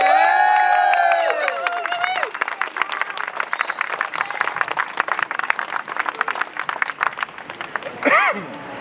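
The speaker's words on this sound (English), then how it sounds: "I would like everyone to give a massive round of applause to Adele." At a rally in Parliament Square, a crowd breaks into sustained, dense clapping with scattered cheers and whoops after a voice speaks briefly, then the applause thins out. A short shout rises near the end.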